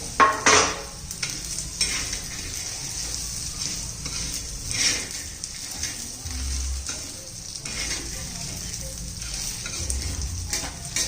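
Peanuts roasting in a pan with already-toasted sesame seeds for Solapuri peanut chutney, stirred steadily with a scraping utensil; a soft continuous sizzle runs under repeated scrapes, with a few louder knocks near the start and midway.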